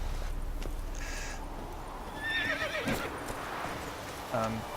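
Geralt's horse Roach in The Witcher 3 neighs and whinnies a few times, with hoof clops and other game ambience around it, moderately close and clear, with no speech.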